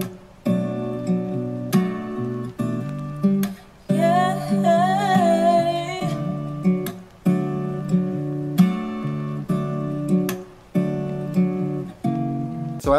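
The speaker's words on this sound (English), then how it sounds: "So together, the vinyl crackle, the rain sound, and the sample sounds like this." Lo-fi hip-hop sample layered with vinyl crackle and a rain ambience, produced in FL Studio: mellow sustained chords and melodic phrases loop steadily with a soft noisy bed underneath, no voice.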